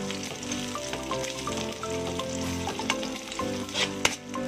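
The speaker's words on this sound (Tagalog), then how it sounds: "magigisa na tayo. Meron na tayong mantika dyan at lalagyan na natin ang ating bawang" Garlic and onion sauté in hot oil in an indoor kitchen, giving a steady close sizzle with irregular stirring scrapes throughout and no talking.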